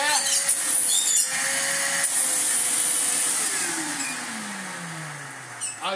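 A Bissell Lift-Off 3750-E vacuum cleaner, dusty and in need of some care, runs with a loud, steady whine close up, its motor pitch slowly sliding downward toward the end.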